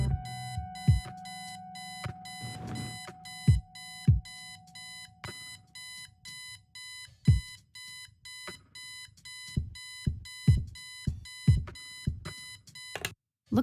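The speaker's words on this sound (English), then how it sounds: "I set the alarm so you won't miss the funeral" Alarm clock ringing in the Kathy Rain adventure game, a steady run of sharp repeating beeps with evenly spaced thumping pulses, loud and close, with no talk over it.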